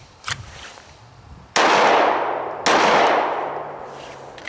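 Two loud, close pistol shots from a Springfield XDM .45 compact, each a sharp crack followed by a long decaying echo, spaced about a second apart, with a faint click before them.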